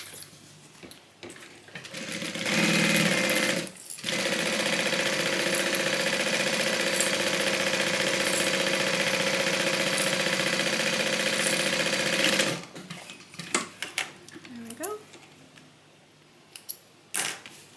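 A sewing machine basting long stitches around a fabric Bible cover runs in one loud, steady whir for about ten seconds after a brief start, then stops, followed by scattered clicks and handling noises.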